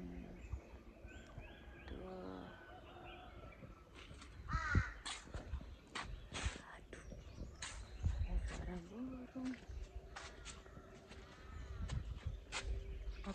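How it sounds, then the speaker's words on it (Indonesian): Outdoors on a morning at a glamping site in Pakistan, a crow gives repeated harsh caws, some loud and close and others fainter, while a person talks quietly under and between the calls. "Apa sih itu binatang ya? Itu burung kayaknya."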